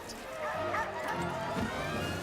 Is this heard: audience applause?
no